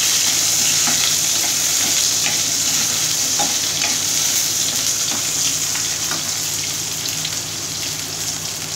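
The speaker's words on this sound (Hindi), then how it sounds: "अब डाले प्याज," Onions sizzle steadily in hot oil in a pan while being stirred for Punjabi kadhi pakoda, with a continuous hiss and faint scraping ticks throughout.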